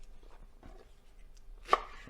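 A knife slices through a bunch of cilantro for salsa with a few soft, faint cuts, ending in one sharper chop against the board, quiet and close with no talk.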